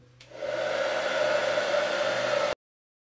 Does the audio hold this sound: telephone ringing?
no